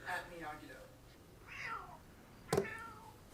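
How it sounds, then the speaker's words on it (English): A cat meows a few times in short, faint cries, with people's voices mixed in around them and a brief louder thump near the end. "I didn't know you had a cat."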